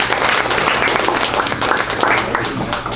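An audience at a men's panel event in Los Angeles claps steadily and loudly, a continuous dense patter of many hands with a few voices mixed in underneath.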